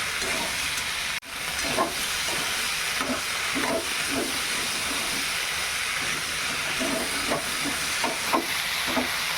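Okra pieces sizzle and hiss as they fry in a hot pan, a steady sputtering texture with soft periodic scraping and stirring strokes and a brief knock near the start.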